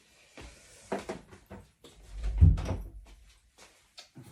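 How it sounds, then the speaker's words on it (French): A room door at home being pulled shut, with shuffling and handling noises leading into a solid low thud of the door closing, close by and fairly loud, then quiet. "je vais fermer ma porte"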